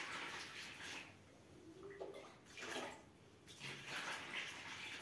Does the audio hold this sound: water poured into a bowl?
yes